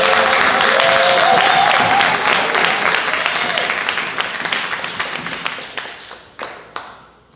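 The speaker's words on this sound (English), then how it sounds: "Give her a round of applause." An audience at a literary tribute evening applauds as Dr. Mona Lisa Saloy comes to the stage, dense sustained clapping that slowly thins and fades, with a few last scattered claps near the end.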